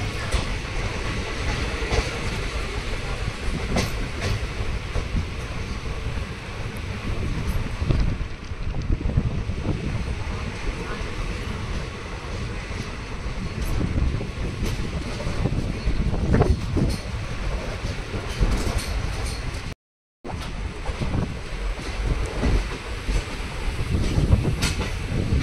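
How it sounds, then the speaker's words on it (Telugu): A passenger train rolls into Betamcherla railway station, a continuous loud rumble of wheels and rushing wind with faint clickety-clack over the rails, steady for the whole stretch apart from one momentary dropout. "ప్రజెంట్ వచ్చేసి ట్రైన్ బేతంచెర్ల రైల్వే స్టేషన్కి అయితే ఎంటర్ అవుతుంది"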